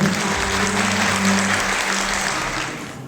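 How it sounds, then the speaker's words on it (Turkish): Audience applause fills a concert hall during the Anadolu Buluşuyor themed concert night, steady dense clapping throughout with a faint low hum of music or voices beneath, tapering slightly at the end. "Şöyle bir alkışlarımız efendim"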